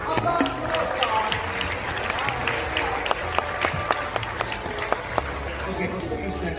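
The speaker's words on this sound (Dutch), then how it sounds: "Jawohl, applaus for Oscar." Applause for a person named Oscar, quick irregular clapping from a small group mixed with voices and cheering, with sharp individual claps standing out through the steady chatter.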